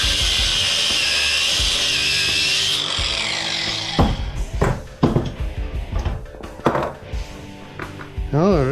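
A power saw cuts through scrap copper holding a rubber gasket, whining steadily for a few seconds. Then come close clanks, knocks and rattles as the metal is handled.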